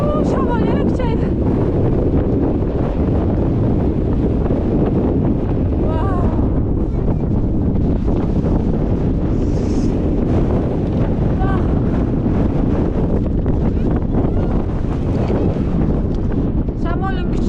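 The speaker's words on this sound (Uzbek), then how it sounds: "Shamol yana kuchaydi." Strong outdoor wind buffets the microphone in a loud, continuous roar with gusting rumble, while a voice speaks faintly underneath.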